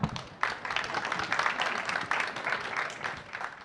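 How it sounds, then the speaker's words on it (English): Audience at a COP29 climate conference session applauds panel speakers with a brief, moderately loud burst of many overlapping claps that swells and dips unevenly. "A big round of applause."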